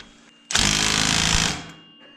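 Impact wrench tightening a wheel bearing nut on a Maverick X3, one loud burst of hammering rattle lasting about a second, close up, with no talking over it.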